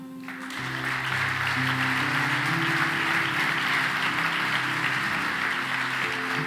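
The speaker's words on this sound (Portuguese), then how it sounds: "Você pode aplaudir o Senhor?" A church congregation applauds steadily through a Sunday morning service, with organ or keyboard chords sustained underneath the dense, continuous clapping.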